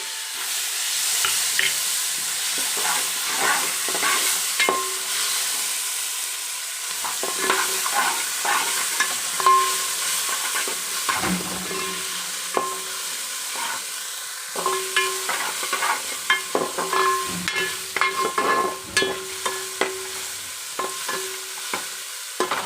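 Tomato frying and being stirred in hot oil for a Rayalaseema uggani, with steady sizzling and repeated scraping strokes of a spoon against the pan, close and continuous with no talk.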